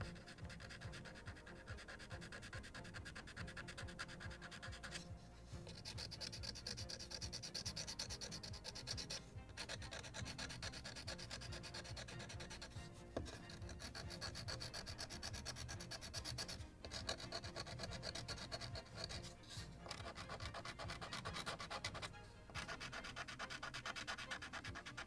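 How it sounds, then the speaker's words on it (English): Wood is scraped on the hull of a Model Shipways kit of the 1776 gunboat Philadelphia, giving continuous close rasping strokes with brief pauses between passes, steady and unaccompanied by talk. "A little more scraping."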